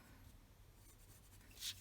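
A pencil marking on paper during a paper-craft album project, faint soft scratching that builds into a couple of brisk, louder strokes right at the end.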